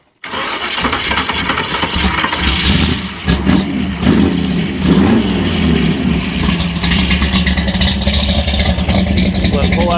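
A hot rod's engine catches after a brief pause and runs loud and continuous, revving up and down with throaty surges as gas is fed, close by, while people talk nearby.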